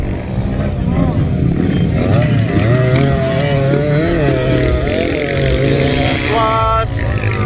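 A motorcycle engine at an open beginners' motorcycle race, revving hard with rising and falling pitch sweeps, loud and close, while people talk over it.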